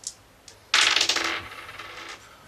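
A die rolls during a Zombicide board game, a couple of faint ticks followed by a bright rattling clatter on a table that settles and fades over a second or so.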